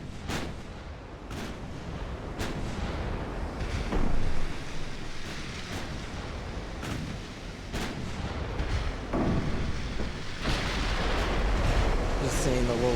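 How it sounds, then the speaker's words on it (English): Battleship guns boom across open water in Ultimate Admiral: Dreadnoughts, a series of irregular artillery blasts roughly every second or two over a steady windy, rumbling sea bed. "Yeah, they are attempting to return fire."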